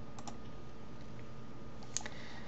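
A computer mouse clicks faintly a few times, scattered over a quiet room-tone background, with a slightly sharper click near the end and no voices.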